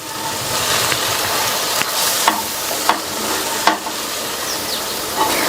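Chopped spinach greens fry and hiss loudly in a pan, with a few sharp scraping clatters as a utensil stirs and tosses them.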